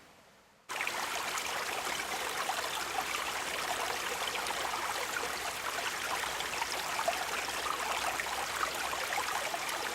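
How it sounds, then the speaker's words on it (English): Snowmelt creek running through the mountains, a steady, close, broadband rush of flowing water that starts abruptly and continues unbroken, with no voices. "Got a nice little creek running down there."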